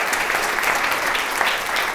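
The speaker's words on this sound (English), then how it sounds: "Clap your hands, make some noise." Audience applause at a time-series analysis talk, a dense, steady wash of many hands clapping, close and fairly loud throughout without a break.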